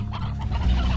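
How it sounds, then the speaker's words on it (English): A rooster from the video game Slime Rancher clucks in a short, close burst of throaty fowl sounds lasting about a second, with no talking over it. "taking a rooster as well"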